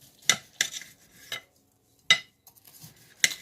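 Cooked corned beef brisket being sliced on a board, with a handful of sharp separate knife and utensil clicks spaced out over a few seconds in a quiet kitchen.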